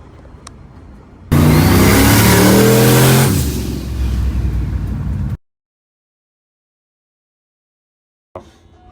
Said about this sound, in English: Cold start, running diesel.